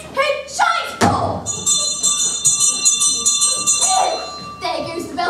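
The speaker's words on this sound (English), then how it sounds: "There goes the bell for afternoon games!" A school bell rings for afternoon games, a sustained electric ring lasting several seconds after a couple of thuds, with voices talking at the start and end.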